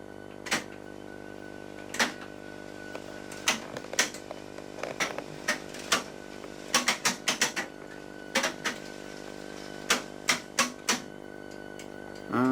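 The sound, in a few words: language lab tape machines rewinding tapes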